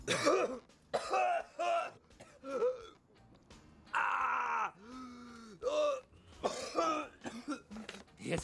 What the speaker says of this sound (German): Das ist besser, wenn du hustest.